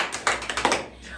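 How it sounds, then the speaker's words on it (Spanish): Light clapping during a church service, a few sharp hand claps in a brief uneven burst, fairly quiet and close, fading out after about a second. "debemos dar otro aplauso por el pastoreo en casa"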